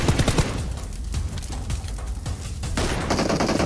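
Rapid bursts of automatic gunfire and single shots crackle in a PUBG Mobile battle, loud and dense throughout with a fresh volley near the end, no talking.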